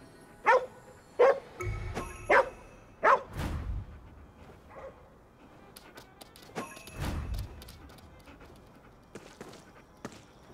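A dog barks in the video game Ghostwire Tokyo, giving several sharp, moderately loud barks in the first few seconds, mixed with thuds and footsteps and quieter game sounds afterward.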